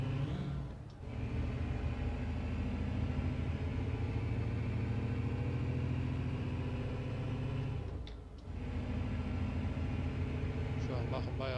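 Heavy truck engine in Euro Truck Simulator 2, hauling a double trailer through the Alps on a manual gearbox, drones steadily with deep harmonic rumble, dipping briefly twice as gears shift before pulling again.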